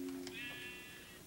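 A white sheep in Minecraft bleats once, a short quavering game-animal cry, fairly soft and close, with no one speaking over it.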